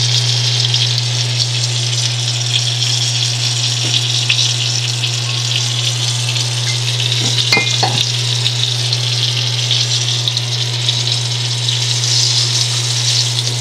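Rock cod pieces fry in hot oil in a pan, giving a loud, continuous sizzle with a constant low hum beneath it and a few brief crackles partway through.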